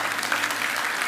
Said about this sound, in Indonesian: Yang percaya kasih tepuk tangan untuk Tuhan Yesus.